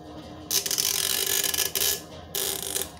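A crackly, crinkling rip as a pull tab tears open the packaging on a can of sour ale, in three bursts with short pauses between them, close up and fairly loud.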